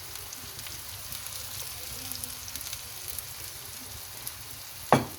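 Onions sautéing in a pan for Cantonese fried rice, a continuous soft sizzle and crackle with light stirring scrapes and one sharp utensil knock near the end.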